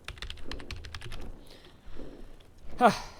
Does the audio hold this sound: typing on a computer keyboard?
yes